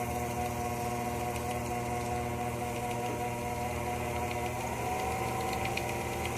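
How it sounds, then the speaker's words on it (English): A lathe spins steadily while a billiard cue tip is repaired, making a continuous low motor hum with a faint mechanical rattle. It stays close, even and unbroken throughout, with no talking. "Be sure you have your lathe running at the right speed."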